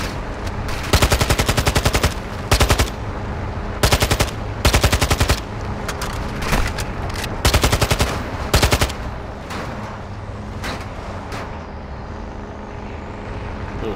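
Automatic gunfire from Modern Warfare 2 Remastered rattles in rapid bursts, several short volleys of machine-gun fire close by, with vehicle engine rumble underneath and the shooting thinning out toward the end.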